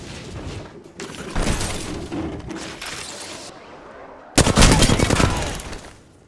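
Gunfire in Apex Legends, rapid bursts of shots in two loud clusters, the second and heaviest near the end, with faint clatter between and a little voice chatter.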